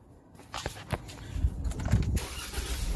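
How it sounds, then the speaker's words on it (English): A 2016 Jeep Wrangler with a misfire is cranked and starts up close by, a short burst of starter whirring followed by the engine catching and rumbling steadily, loud and near with no talking. "So please start the engine."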